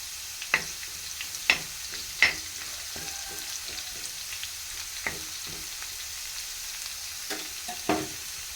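Potatoes and garlic frying in a pan give a steady soft sizzle, with sharp clicks from stirring scattered throughout, close and alone.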